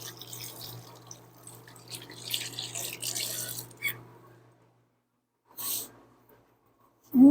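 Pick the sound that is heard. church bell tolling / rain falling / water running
water running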